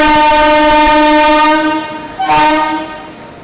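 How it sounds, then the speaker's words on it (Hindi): A locomotive reverses up to couple onto the Bhagat Ki Kothi Express, sounding a long, loud, sustained horn that stops and then blasts again briefly, close by, with faint rail rumble underneath. "यहाँ देखिए पावर अपना रिवर्स होके आ भी गया।"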